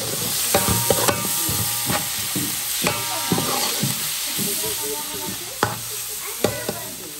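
Onions sizzle and fry in a pan for a Creole-style spiny lobster sauce, with a steady sizzle broken by repeated clacks and scrapes of stirring. No one speaks.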